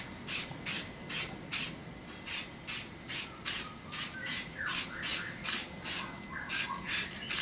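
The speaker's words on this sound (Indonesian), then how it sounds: "kurang putih, kita semprotkan ini." A Pilox Samurai aerosol can spray-paints a car wheel rim with white paint, giving a steady run of short hissing bursts, about two per second, close and loud, with no talking.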